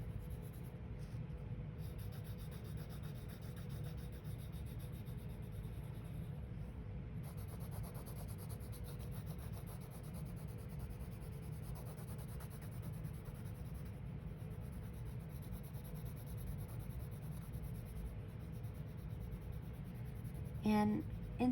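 Pencil shading on paper, with a steady soft scratching and rubbing of graphite going over the same area again and again, continuous and close, with no talk over it.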